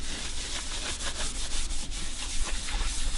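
Cloth rubbing excess oil finish off a wooden surface, repeated close scrubbing strokes in an uneven back-and-forth rhythm, a soft rough swishing with a low rumble beneath.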